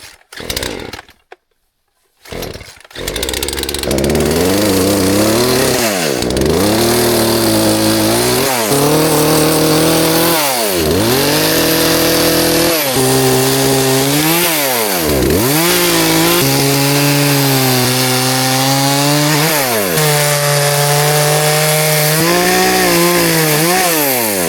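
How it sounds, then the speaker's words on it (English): A chainsaw cuts through wood at an off-grid cabin, its engine revving up and dipping again and again as the bar bites into the log. It is loud and close and runs steadily after a brief start. "got the chainsaw pinched in here."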